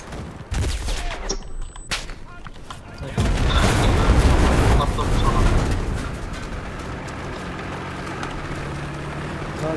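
Explosions and gunfire from the World War II shooter game Enlisted, with sharp bangs at first, then a loud sustained blast and rumble that slowly fades into continuing battle noise.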